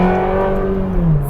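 A daily-driven Ferrari 360 engine revs in a steady, loud, close drone with a rising-then-falling pitch. It holds for over a second with no voices.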